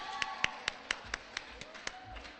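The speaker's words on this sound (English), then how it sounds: "How about a round of applause for all those amazing faculty and staff members who went with you today?" Slow, evenly spaced claps from a small number of hands at a school event, about nine distinct sharp claps close by, with faint low rumbles in the background.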